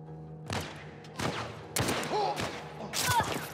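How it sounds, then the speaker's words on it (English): Four separate gunshots ring out in The Last of Us Part 1, spaced roughly a second apart, each a sharp loud crack with a short tail over quiet game ambience. "I don't understand how those shots miss. It's like he moves like right as I shoot."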